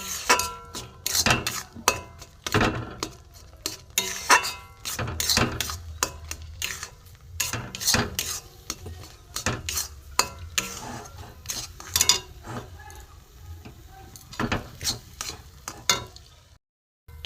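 Semolina mixed with a little water into a dry dough in a pan for balushahi sweets, heard as steady close scraping and clinking of a spoon against the pan, with rhythmic strokes running throughout and no talk.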